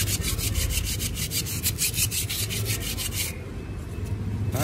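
A power tool scrubs the stuck kickstand of a Honda SH Mode scooter, producing a close, loud, rhythmic grinding and rubbing with quick repeated strokes that ease into a smoother whir near the end.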